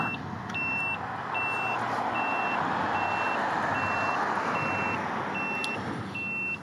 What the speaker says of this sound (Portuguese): Podemos ligar ou desligar o alarme aqui através deste símbolozinho